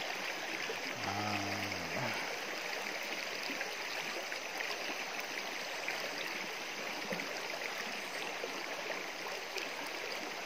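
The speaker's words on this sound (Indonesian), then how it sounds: "beginilah keadaan di sungai ini" Steady broadband rush of a village river flowing in Kampung Kerusin, continuous and fairly loud throughout, with a brief low hum near the start.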